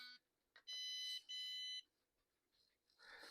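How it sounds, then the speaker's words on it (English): Two sharp electronic beeps from a dog training collar, each lasting about half a second, close and clear against near silence, followed by faint rustling. "And it beeps and vibrates."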